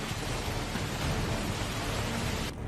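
Heavy rain falls during a downpour in New York's Queens and Brooklyn amid severe flooding, forming a loud, dense, unbroken hiss of rain on surfaces that cuts off abruptly near the end.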